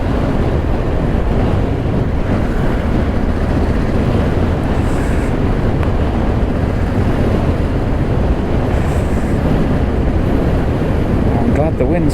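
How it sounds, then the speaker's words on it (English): Strong wind buffets the microphone steadily throughout, a loud, unbroken roar at a wild camp in the Norfolk countryside. "I'm glad the wind's blowing off to my right"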